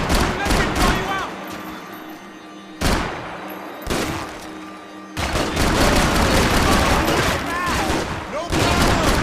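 Gunfire in the Max Payne 3 video game: loud, close bursts of rapid shots in dense volleys, broken by two short pauses, with shouting voices mixed into the firefight.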